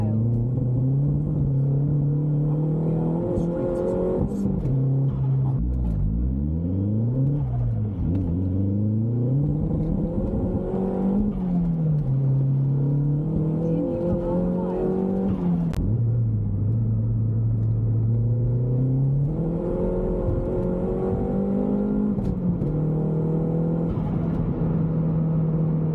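A Vauxhall VXR hums along a road with a steady, close engine and tyre rumble, its pitch rising and falling through several gear changes.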